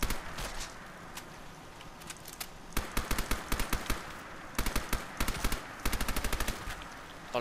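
Rapid bursts of gunfire from a modded gun in Fallout 4 on PS4 crackle in short volleys, sharp and close, separated by brief pauses over a low rumbling background.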